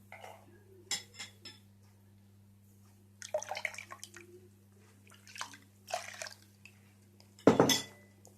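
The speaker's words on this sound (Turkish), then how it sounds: "iyice karıştırıyoruz" A spoon stirs yogurt starter into a pot of milk, giving faint, scattered clinks and soft liquid swirls against a quiet background hum, with one louder clatter near the end.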